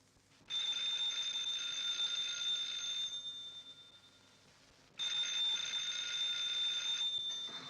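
An old-fashioned telephone bell rings at night in a 1944 mystery film, two long metallic rings separated by a pause, fairly close and steady with no one speaking.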